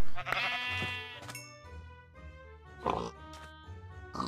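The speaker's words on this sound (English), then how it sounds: "Pig." Minecraft pig oinks, a few short grunting calls spaced across a few seconds over soft in-game music.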